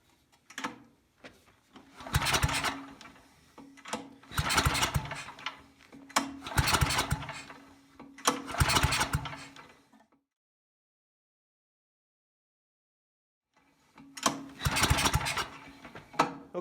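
Tecumseh-powered Wilco 4000-watt generator being pull-started, four rising, sputtering engine bursts that die out, a long silence, then another attempt; close and loud.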